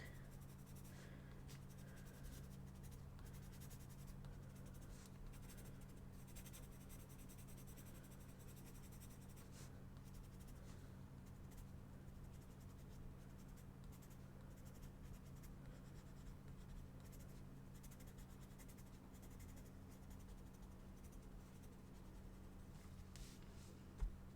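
Colored pencil burnishing over light and dark areas of a greyscale fairy drawing on paper, flattening the tooth: a steady, continuous scratchy rubbing of pencil on paper that runs close and even throughout, with a low constant hum beneath and no talking.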